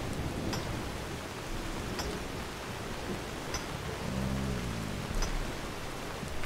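Steady rain falls in the video game Skyrim, a dense, even hiss that continues throughout, with a faint low rumble partway through and no speech.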